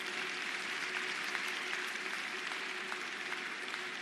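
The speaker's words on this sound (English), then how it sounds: "That should deserve a round of applause" Faint, steady applause from a crowd at a county address, a thin continuous wash of clapping heard from a distance with no voices on top.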